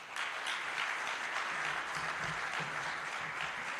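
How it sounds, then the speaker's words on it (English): At the official launch of a legal information portal in Jamaica, an audience keeps up steady applause, moderately loud and even throughout, with faint murmuring underneath. "can we keep the applause going, please"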